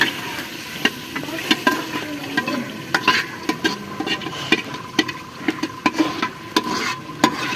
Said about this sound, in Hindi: तो हम जो है साग ऐड कर रहे हैं मसाले में